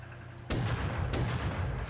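A double-barrel shotgun in the game Rust fires with a sudden loud blast, then a second, slightly weaker report follows and decays into rumbling noise.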